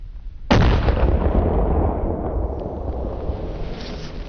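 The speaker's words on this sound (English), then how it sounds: "Wow, nice shot, Ty." A single loud rifle shot fired at big game during a hunt, a sharp close blast with a long rolling echo and rumble fading over several seconds.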